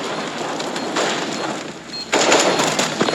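Gunfire in CS:GO, a dense wash of shots and rattling bursts that swells louder near the end, continuous and close with no talk over it.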